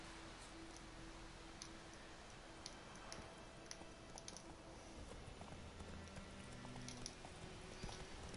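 Roach the horse's hooves clip-clopping at a trot in The Witcher 3: Wild Hunt, a run of light, quick hoof taps of moderate loudness over a soft, steady game background.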